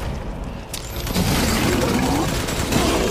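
Sustained gunfire in the survival horror game Resident Evil Village, a dense rolling barrage with booms and mechanical clatter that stays loud throughout, mixed with game sound effects.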